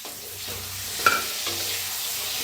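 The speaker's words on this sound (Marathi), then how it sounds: "आता ह्याच्यातच टाकूया कढीपत्ता आणि एक टमाटो कापून घेतले" Curry leaves and a chopped tomato drop into stuffed eggplant frying in a pan, giving a brief sharp burst of sizzle that settles back into a steady low frying hiss with light stirring.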